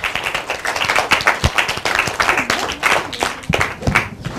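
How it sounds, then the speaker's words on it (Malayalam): Children in a TV studio clap their hands in a rapid, uneven burst of sharp claps that runs throughout, close and lively. "ആരും കൈയടിക്കുന്നില്ല. കൈയടി."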